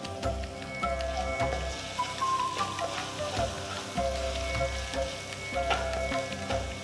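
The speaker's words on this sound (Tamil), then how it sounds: "ஸோ வெங்காயம் ஒரு அளவுக்கு நல்லா வதங்கணும்" Onion and green chillies sauté in a pan, a steady low sizzle with light stirring scrapes, alone at moderate level throughout.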